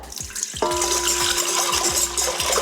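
Warm water for a pretzel dough splashes from a tap into a bowl of yeast and brown sugar, a steady close running stream after a few soft clinks, continuing to the end.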